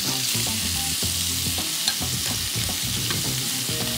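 Pork ribs frying in a pan for borscht give a constant bright sizzle, close and steady, with soft scraping and turning sounds scattered throughout and no talking.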